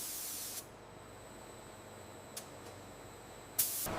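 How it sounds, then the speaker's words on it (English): Eco-friendly nano waterproofing coating sprayed onto glass-recycled terrazzo tile: a steady, even spray hiss running throughout, with a few brief bursts and a louder gush near the end. "To waterproof it, an eco-friendly nano coating is sprayed on."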